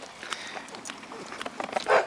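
Dogs give a few short yips and barks, one sharper bark near the end standing out over faint background noise; no talking is heard.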